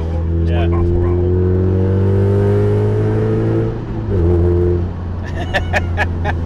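A Mazda MX5 mk2.5 Montana Edition idles and revs with a loud, steady engine drone and a rattling exhaust baffle, dipping briefly before breaking into rough, buzzy rattling bursts near the end.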